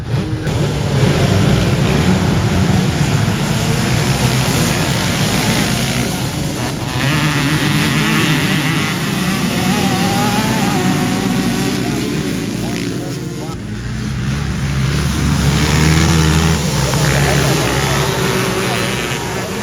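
A Kawasaki KX 250 two-stroke motocross bike races at a vintage MX event, its engine droning loudly and rising and falling as it passes, with a commentator talking over it.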